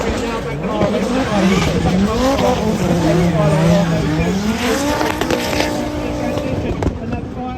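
A drift car at Mondello Park in Ireland, during a competitive drift battle, with its engine screaming at high revs as its tires skid and squeal, loud and continuous, with commentary talking over it.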